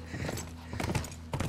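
Horse hooves clip-clop in a steady rhythm while riding a horse in The Last of Us game world, close and moderately loud, with a brief snort-like burst near the end.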